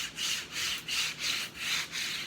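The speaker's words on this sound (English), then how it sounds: "I'm gonna take my scraper card, rub it again." A scraper card rubs back and forth over white vinyl laid on a brown wooden board, six steady, even strokes of close, dry rasping with no talking.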